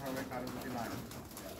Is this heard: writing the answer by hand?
no